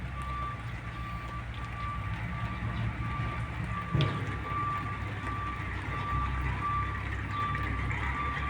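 Light drizzle falls steadily outdoors, a soft, even patter across the whole stretch, with one brief thud near the middle and a thin steady beeping tone in the background.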